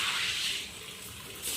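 Water runs steadily from a household tap, a continuous close hiss that dips slightly midway and swells again at the end, with no one talking.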